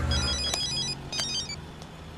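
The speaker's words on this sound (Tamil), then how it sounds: "சார் கமிஷனர் ஃபோன் பண்றாரு." A telephone rings with a bright electronic ringtone, repeating bursts close and clear with no voices over it.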